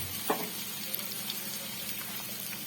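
Turmeric and cumin powders sizzle in a pan for a mustard hilsa curry, a soft continuous frying hiss with a light scrape of stirring near the start.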